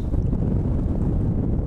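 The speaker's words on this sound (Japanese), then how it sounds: "今日風強いですね" Strong wind buffets the microphone outdoors in a steady, loud roar of low rumbling noise that never lets up, with no voices over it.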